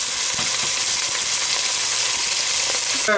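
Onions and chillies fry in hot oil for a Jaffna mutton curry, giving a steady, loud, hissing sizzle with a few faint stirring clicks, close by and uninterrupted by talk.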